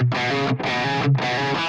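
An electric guitar through a Slamurai overdrive pedal rings out in three sustained strums, thick and gritty classic rock chords, with brief gaps between them.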